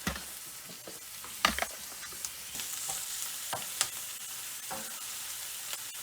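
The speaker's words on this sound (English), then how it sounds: "So while this is frying up" Chopped garlic frying in a pan gives a steady close sizzle, broken by a few sharp clinks and scrapes of stirring, with no talk.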